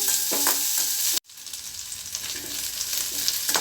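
Curry leaves and tamarind sauté in a pan for chutney, producing a bright, close sizzle broken by a brief sharp cut, then steady frying with light stirring scrapes.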